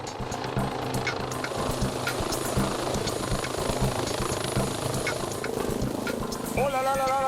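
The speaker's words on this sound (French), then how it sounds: "Quelques instants plus tard, l'hélicoptère de la sécurité civile arrive sur place." A civil security rescue helicopter arrives and sets down on the carriageway of the A10 motorway, its rotor thumping loudly and steadily throughout, with a rising engine whine near the end.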